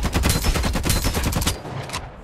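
Rapid automatic gunfire in the mobile shooter Farlight 84, a dense string of sharp, evenly spaced shots lasting about a second and a half before cutting off into a short tail.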